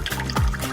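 Juice runs from a special tap into a glass, a short close pour with a bubbling, rising gurgle as the glass fills.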